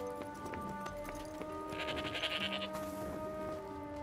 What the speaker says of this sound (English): Try finding hungry sheep and feeding them.